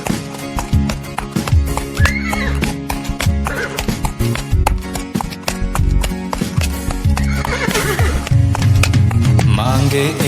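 A horse's galloping hooves and neighing sound over busy music, with repeated clip-clop beats and whinnies mixed into a loud, dense backing track.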